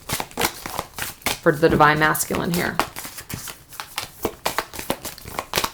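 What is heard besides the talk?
shuffling tarot cards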